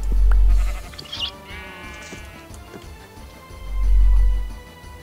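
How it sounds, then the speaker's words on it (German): A goat in the Minecraft video game gives two brief bleats close by. Quieter game ambience and a faint voice fill the gaps between them. "Ziege, okay."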